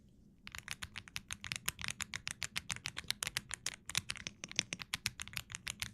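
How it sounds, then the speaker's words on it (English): A soft, buttery-sounding computer keyboard is typed on steadily for several seconds, a rapid even stream of muted, rounded keystrokes close to the microphone, with no talk. "I like the sound of this keyboard. It's buttery."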